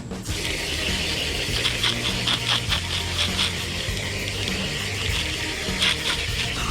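Steady rush of water running through dirty gravel in a tub set up for baby snapping turtles, with grinding, rattling stones as the gravel is rinsed, continuous and close.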